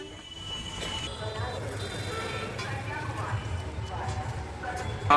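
Train pulling into a railway station in Prayagraj: a steady rumble of rolling wagons with faint squealing wheels, continuous and fairly close, with voices in the background.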